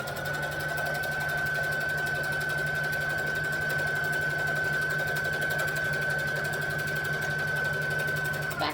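A sewing machine stitches a seam closed on a Kwik Sew K4172 garment, a close, steady, rapid rattling hum with a faint whine, running unbroken throughout.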